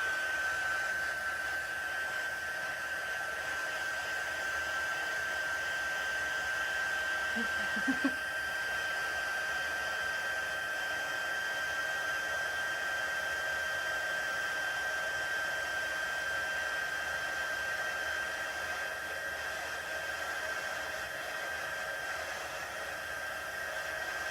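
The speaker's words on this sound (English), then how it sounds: "I'm going to just heat emboss this." A heat embossing tool blowing hot air onto a handmade sympathy card, a steady, even whooshing hum like a small hair dryer running continuously throughout, close and moderately loud.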